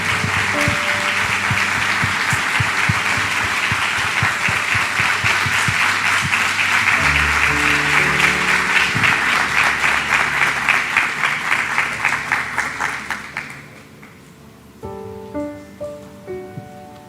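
A standing church congregation applauds loudly over sustained organ or keyboard chords, the clapping fading out near the end as the music continues alone.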